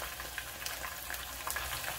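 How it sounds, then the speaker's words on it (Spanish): Thin guajillo chiles toast in a frying pan, giving a faint, steady sizzle with scattered soft crackles and pops, no voices. "en este sartén, los chiles guajillos, los tenemos que estar viendo porque estos tienden a quemarse."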